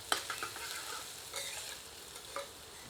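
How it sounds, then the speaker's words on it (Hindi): Onion, garlic and ginger are stirred and fried in a pan, a soft close sizzle punctuated by several brief scraping and clattering stir strokes over a few seconds. "अब मिलाकर तब तक भूनते हैं जब तक कि प्याज सुनहरी नहीं हो जाती।"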